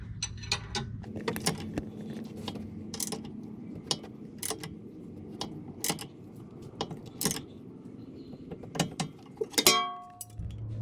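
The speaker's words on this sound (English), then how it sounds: "So I'm going to be tightening up this top sway bar link." A wrench tightens a nut on the top sway bar link of a 2005 Lexus ES 330, giving repeated metallic clicks and clinks at an uneven pace, close by, with a brief ratcheting rattle near the end.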